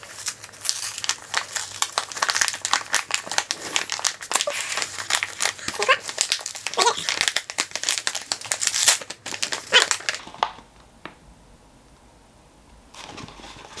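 A glued book parcel is pried open, with busy, close paper crinkling and tearing that goes on for several seconds and then stops, leaving near quiet.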